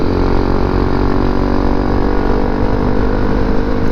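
A Honda CRF250L Rally motorcycle rides along a dirt fire road, its engine droning steadily and loud throughout with a constant buzzing tone and no pauses or talk.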